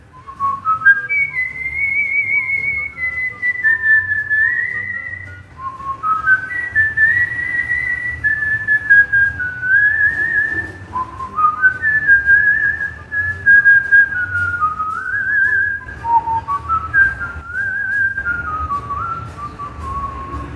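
A slowed-down Paraguayan polka melody whistled in long, gliding phrases, each rising and then drifting down, with a low rumble beneath.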